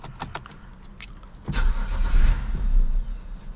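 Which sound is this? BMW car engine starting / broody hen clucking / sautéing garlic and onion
BMW car engine starting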